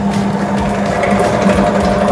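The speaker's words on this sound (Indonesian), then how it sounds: "ini mesin sedang berjalan" A small motor in a demonstration device runs with a steady, loud hum and constant mechanical whir, unbroken throughout.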